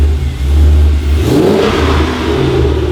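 A truck engine revs loudly through newly fitted mufflers, a deep, rough rumble rising in a surge and then settling back toward idle, close by with no talk.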